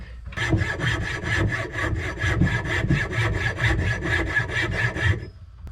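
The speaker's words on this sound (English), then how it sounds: "So I'm going to cut this bill out real quick." A handsaw rasps through a wooden lure bill in quick, even back-and-forth strokes, about a dozen in a steady rhythm, close and alone with no talking.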